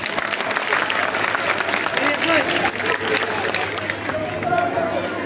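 An audience at a school event in Chattogram breaks into loud, steady applause that fills the whole stretch, with a dense crowd wash and a murmur of voices underneath.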